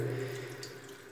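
Water runs steadily from a bathroom faucet into a sink, a short close hiss of flow with no voices.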